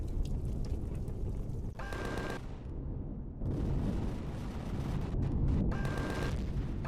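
A bomber ship blows up in the space survival game Empyrion Galactic Survival, a loud sustained rumbling blast with heavy low roar and crackling bursts that swells and recedes over several seconds, with no talk.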